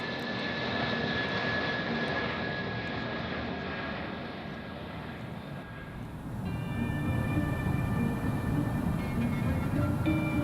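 Engines of an Antonov An-225 cargo plane during a slow, smooth takeoff, heard from inside the cabin as a loud, continuous roar with a steady whine that shifts and swells partway through.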